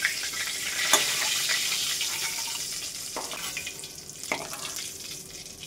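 Small mourala fish crackle and sizzle in hot oil in a pan as they are lifted out, a steady frying hiss with a few sharp clinks and scrapes spaced through it.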